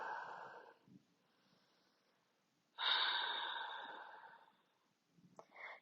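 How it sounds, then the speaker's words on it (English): Deep breathing in a power yoga session, with a long sighing exhale at the start, a quiet pause, then a strong, loud, close breath and a shorter one at the end. "Keep breathing."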